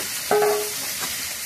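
Potatoes frying in a pan are stirred, giving a short scrape and a brief clatter over a steady, close sizzle.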